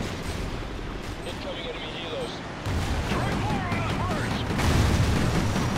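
Gunfire in Call of Duty: Ghosts, dense bursts of shots and booming blasts rolling on continuously and growing louder toward the end, with mumbled speech underneath.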